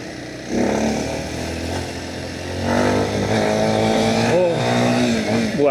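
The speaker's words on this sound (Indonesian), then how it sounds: "Suara mesinnya itu loh yang agak mengkhawatirkan. Karena saya sebelumnya pakai MT25 tuh suaranya nggak seberisik ini." Kawasaki KLX 230 SM trail motorcycle engine running on a road in stop-and-go riding, a steady buzzy drone that rises and revs up partway through, with harmonic whine near the end.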